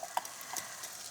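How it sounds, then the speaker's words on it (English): Sliced onions sizzle and crackle in hot oil in a pan while cooking a Goan fish curry, with soft, faint frying hiss and a few small pops, no talk. "Yes, it's sizzling."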